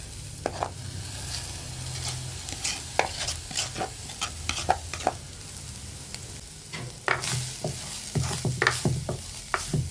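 Grated coconut and vegetables stir-fry in a pan, with a steady low sizzle broken by sharp scraping strokes of a spoon or spatula.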